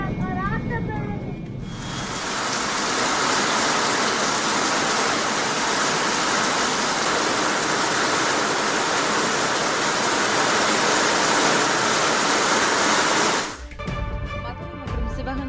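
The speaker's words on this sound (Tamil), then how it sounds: "இந்த சூழலில் அதன் முனைய கட்டிடத்தில் தண்ணீர் கசிந்த வீடியோ சமூக வலைதளங்களில் வேகமாக பரவி வருகிறது" Water leaks heavily inside the terminal building of Navi Mumbai airport, a loud, steady rushing cascade like a downpour that starts abruptly and stops about twelve seconds later, close and unbroken.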